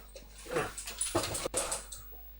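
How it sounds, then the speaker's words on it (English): Puppies whimper and yip close by, a run of high, thin whines and short yelps in uneven bursts over a low background hum. "We couldn't have the puppy episode and not have the puppies show up at some point."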